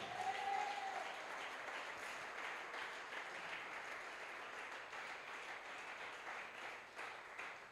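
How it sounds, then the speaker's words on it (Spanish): Church congregation applauding loudly during a sermon, a broad sustained wash of clapping from a large crowd heard from some distance, steady throughout with a brief faint tone near the start. "¿Cuántos pueden aplaudir bien fuerte a Dios?"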